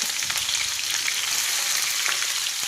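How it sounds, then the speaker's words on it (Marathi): Cumin seeds and chillies fry in a pan, making a loud, dense, continuous crackling sizzle close up, with no talking. "इकडे आपले जिरे फ्राय झालेत लाल झालेत आपण टाकूया ह्यात आता"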